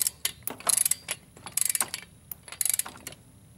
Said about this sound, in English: Now pull down your torque. The book calls for 20 foot-pounds.